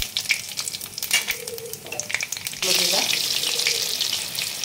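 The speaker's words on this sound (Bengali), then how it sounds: "একটু তেল দিচ্ছি, 5 ফোড়ন দিলাম," Five-spice seeds crackling and sizzling in hot oil for a fish curry, a steady frying hiss that swells louder halfway through, with light pops and no talk.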